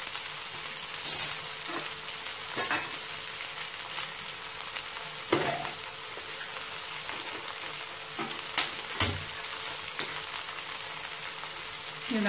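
Onions and tomato fry in a pan for a white peas kurma, a steady close sizzle broken by several scraping stirs of a spoon.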